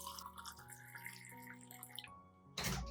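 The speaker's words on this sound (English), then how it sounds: "I added 1 liter of room temperature water to dilute the solution." Room-temperature water is poured into a garlic solution to dilute it, giving a soft splash that swells into a short, louder gush near the end, faint beneath background music.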